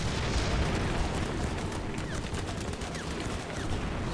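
Gunfire in the War Thunder tank game, in a Panzer III Ausf. N match: a dense, continuous roar of shots and booms holds steady and fairly loud throughout, with no break.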